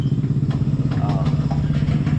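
Suzuki Raider 150 FI motorcycle fitted with a new exhaust pipe, its engine running with a steady low rumble and light mechanical clatter, up close, with some talk nearby.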